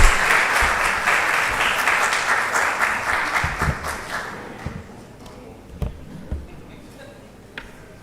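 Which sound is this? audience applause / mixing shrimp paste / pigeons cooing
audience applause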